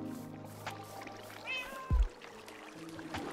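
A cat meows in the Minecraft video game, a brief rising-falling call heard once at moderate volume, followed by a low thump, over a quiet game background.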